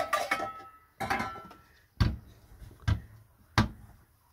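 A saucepan is handled on a gas hob in a motorhome kitchen while carrots are being cooked, giving about five sharp metallic clanks and knocks at uneven intervals, close and fairly loud against a quiet background.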